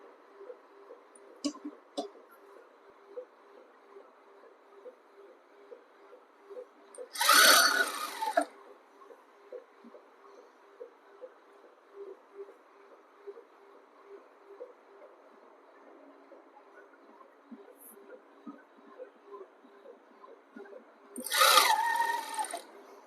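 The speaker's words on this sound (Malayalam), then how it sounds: "ഇനി അതൊന്ന് സ്റ്റിച്ച് ചെയ്ത് കൊടുക്കാം." A sewing machine stitches a panel-cut kurti, a quiet, rapid, even ticking hum heard throughout, broken by two short louder rustles of fabric being moved.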